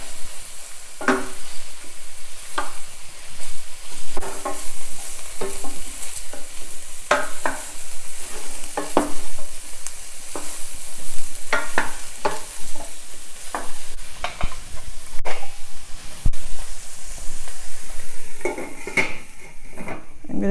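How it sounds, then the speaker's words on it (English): Broccoli stir-fried in a pan over medium-high heat, with a steady sizzle and frequent scraping and clanking of a utensil stirring against the pan throughout. "stir fry the broccoli. And cook it in medium high."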